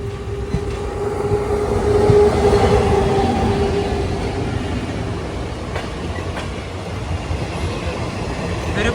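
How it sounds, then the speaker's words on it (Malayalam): A short Indian passenger train with few coaches approaches and passes near Jakhal Junction in Haryana, a loud steady rumble and rolling roar building and holding, with rhythmic clicks of wheels over rail joints and a brief tonal squeal. "ഒരു ട്രെയിൻ വരികയാണ്."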